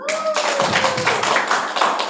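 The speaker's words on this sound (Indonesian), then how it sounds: "Sekali lagi untuk tepuk tangannya." Clapping breaks out from a seated audience at a formal Indonesian gathering to thank two presenters, a brisk burst of hand claps close by after a brief opening tone, lasting about two seconds.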